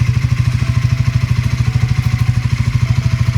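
A Triumph Scrambler 400X motorcycle engine runs at the start of a ride, a steady, rapid, loud thumping pulse heard close up without any talk.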